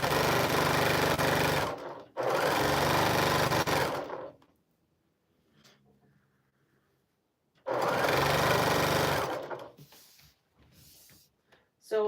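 Sewing machine stitching 4.5-inch quilt blocks together two by two, running in loud, steady bursts of a few seconds with quiet pauses between, close by and alone.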